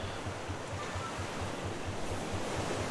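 Ocean waves in the survival game Raft wash steadily in a low, even rumble with a soft rhythmic pulse, a continuous surf bed heard alone without talk.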